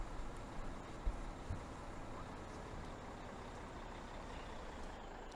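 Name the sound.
truck being parked in Farming Simulator 17 video game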